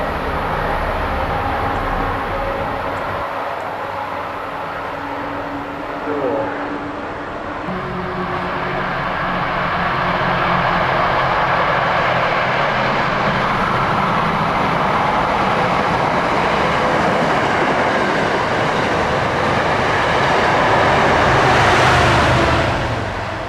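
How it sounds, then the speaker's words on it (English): A Needham Heights Line commuter train passes at rush hour in Forest Hills, a steady broadband rumble and rail roar that swells and stays loud throughout, with a brief higher squeal near the end. "Needham Heights Line train."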